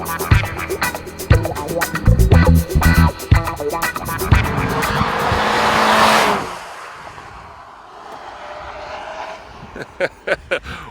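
A 2015 Mazda6 launches hard on a tight race track, its engine revving loudly through rising pitch sweeps, then a broad rushing roar as it speeds away and fades into the distance, with brief bursts returning near the end.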